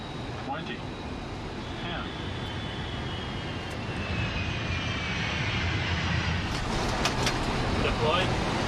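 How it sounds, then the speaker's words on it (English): An American Airlines jet airliner landing at Los Angeles after a flight from New York JFK, a steady engine roar that swells toward the end, with a voice talking over it. "American Flight 1 is arriving in Los Angeles."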